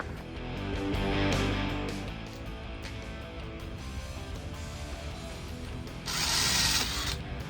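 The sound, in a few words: driver spinning bolt out of golf cart bushing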